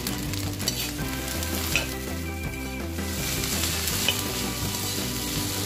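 Crappie and sand bass stir frying with pineapple in a wok: steady, dense sizzling with faint scraping and stirring, while a rhythmic synth music bed plays underneath, continuous throughout.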